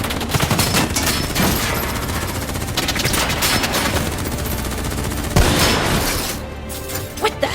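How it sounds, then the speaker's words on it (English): Loud, sustained automatic gunfire from the video game Call of Duty Black Ops 3 crackles in rapid overlapping bursts, with a heavier crash near the end. "Who's shooting?"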